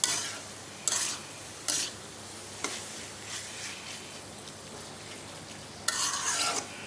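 Jackfruit seeds and thin home-grown malabar spinach stems fry with spices in a pan for a curry. A quiet sizzle runs beneath intermittent scraping stirs, each lasting about half a second, with no voice present.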